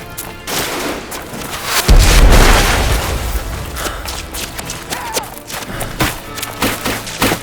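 A grenade explosion in the war game Ad Infinitum: a loud boom with gunfire and crackling around it, then a longer rumble that tails off into scattered thuds.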